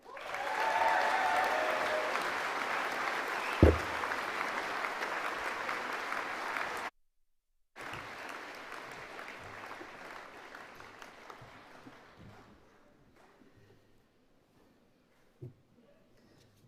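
Graduation ceremony audience of the arts and humanities faculty breaking into loud cheering and sustained applause, with a sharp whoop early on; after a brief cut the clapping continues more thinly and fades to scattered claps.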